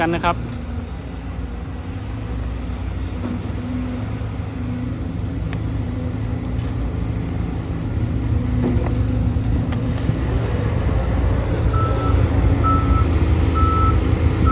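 A LiuGong 920E excavator engine rumbles and roars steadily nearby during reservoir dredging work, with intermittent reversing beeps and faint voices in the background.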